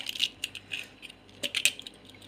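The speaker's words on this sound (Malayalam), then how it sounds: "അപ്പം നമുക്ക് മിക്സിയിലോട്ട് 2 മുട്ട പൊട്ടിച്ചിടാം." Two eggs cracked into the jar of a mixer grinder, a few crisp taps and clicks of shell against the rim, close and fairly quiet with no talk.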